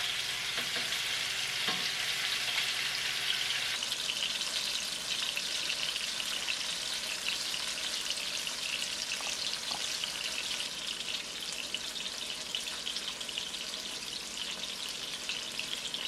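Curry salmon frying in a pan, a steady dense crackling sizzle that runs close and loud throughout, with a few faint clinks early on and no talk.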